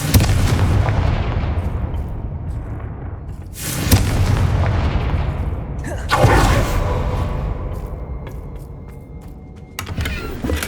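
Confringo spell blasts in the Hogwarts Legacy video game: three loud booming bursts spaced a few seconds apart, each fading into rumbling debris over a constant low background.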